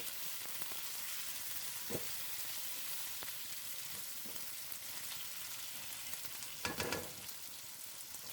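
Sliced potatoes fry with salt in a pan, a soft steady sizzle throughout with a few faint clicks and scrapes, no voices.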